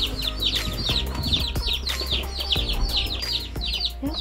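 Baby chicks in a temporary brooder chirp continuously in a busy, overlapping chorus, with repeated high peeps close by over a steady low hum.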